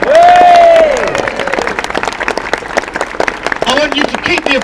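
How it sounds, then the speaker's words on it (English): An audience at an LGBT rights comedy gig at Edinburgh's Russian Consulate applauds steadily, a dense crackle of many hands clapping throughout, while a voice shouts loudly over it at the start. "I want you to keep the applause rolling now"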